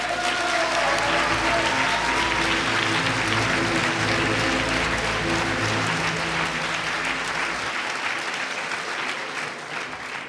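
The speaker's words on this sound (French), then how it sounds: "Je vous demande d'applaudir Evan Fardao." Audience applause at a French law-student eloquence contest final, a sustained burst of loud clapping from the room that thins out toward the end.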